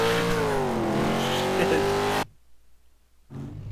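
A car in Garry's Mod roars away under hard acceleration, engine loud and rising, then cuts abruptly to near silence before another burst of sound returns.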